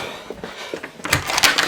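Recording studio doors open and close: a few soft clunks, then a louder cluster of latch rattles and knocks toward the end, heard close and without talk.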